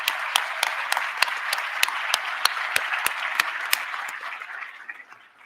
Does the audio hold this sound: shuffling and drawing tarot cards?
no